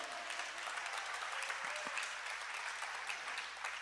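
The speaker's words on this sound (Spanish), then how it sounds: "dale un fuerte aplauso al Señor" A church congregation applauds in praise of the Lord, steady crowd clapping heard at a moderate distance, fairly soft and even throughout.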